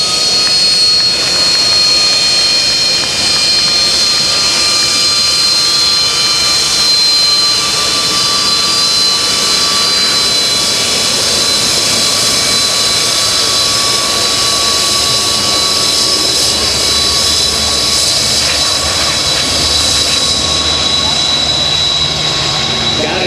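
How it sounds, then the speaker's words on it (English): A BAE Sea Harrier jet flies at an air show at Langley Air Force Base, its loud, steady roar and whine filling the air continuously as people talk over it. "to have this Sea Harrier flying"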